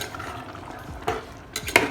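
Tomato sauce for pasta is stirred in a pot, with soft wet sloshing and a few sharp clinks of a utensil against the pot, close and fairly quiet.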